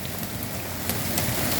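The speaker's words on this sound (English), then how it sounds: "All hail is breaking loose." White pellet hail falling with heavy rain during a March storm, a dense, steady hiss of pellets and drops striking surfaces nearby, continuous and fairly loud over a brief stretch.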